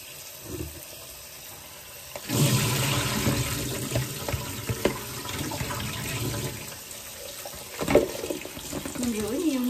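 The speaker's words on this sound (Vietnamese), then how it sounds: "Bây giờ mình sẽ dắt nó ra, mình rửa ráo, mình rửa với nước lạnh." Cold tap water runs over salted cucumbers being rinsed in a sink, a steady splashing stream that starts abruptly after a quiet moment and continues with some clatter, with a faint voice nearby.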